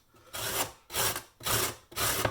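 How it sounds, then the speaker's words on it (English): A carrot is rubbed across the large side of a box grater in four steady, even strokes, close and fairly quiet, with no talk. "Just grate the carrot. Now I'm using the large side of the grater"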